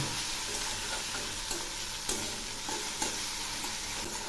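Finely grated ridge gourd with salt and turmeric fries in a pan, a dense steady sizzle close by with occasional stirring scrapes breaking through.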